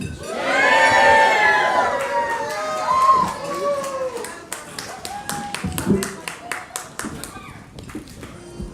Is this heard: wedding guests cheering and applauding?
yes